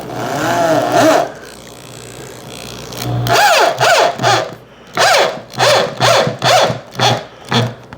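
Power drill driving 3-inch screws into scrap wood, with several short bursts of whirring and grinding: one early burst, then a rapid run of about six pulses close by, loud with no talk.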